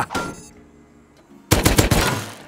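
Rapid bursts of video game gunfire, a short burst near the start, then a loud dense volley of shots close by, with no talk.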